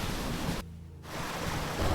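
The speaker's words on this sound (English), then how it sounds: "The roar outside changed. It wasn't just rain anymore. It was the river." Roaring floodwater from a surging river in the Carved by Grief video game, a loud continuous rushing wash that briefly cuts out before swelling back up to full force.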